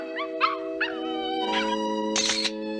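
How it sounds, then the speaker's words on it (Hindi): A cartoon dog gives a few yelping, howl-like barks over a steady tonal hum, several short cries and then a longer one. "अभी मैंने एक डॉग की आवाज सुनी।"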